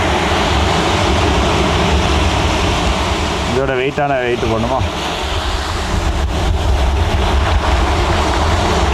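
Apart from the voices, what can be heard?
rough sea waves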